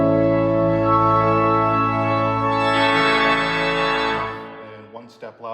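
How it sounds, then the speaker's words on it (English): A pipe organ's crescendo pedal brings on stops from softest to loudest, the sustained chord swelling steadily fuller and brighter over several seconds before cutting off, followed by a few faint knocks. "The crescendo pedal is unique in that it gradually turns on stops from softest to loudest"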